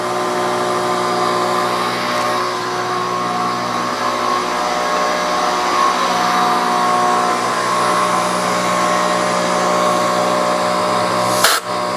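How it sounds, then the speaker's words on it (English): Compressed air blasts from an air hose in a machine shop while a five-cylinder radial engine crankcase is machined. A loud, close, steady rushing hiss runs unbroken and cuts off abruptly near the end. "I think I am going to get the air hose over here."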